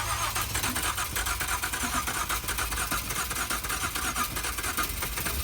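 An Acura car's engine cranks and fires for a moment before cutting out again, a steady loud mechanical churn at close range with no clear voices.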